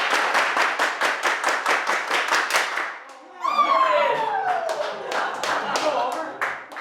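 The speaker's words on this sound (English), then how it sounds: "Everybody clap your hands." An audience claps hands in a quick steady rhythm for about three seconds, then a burst of cheering and mixed applause follows, fairly close and loud.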